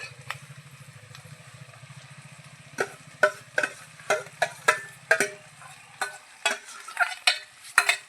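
Onions sizzling in a pan while cooking a winter-special oro (brinjal dish), a low steady fry joined midway by a series of sharp, rhythmic scraping stirs of the spoon against the pan, fairly close.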